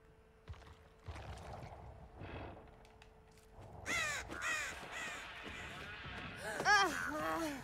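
Several loud, harsh crow caws from the video game Dead by Daylight ring out in the second half, close and repeated over a low game ambience, with quieter voices or movement sounds earlier.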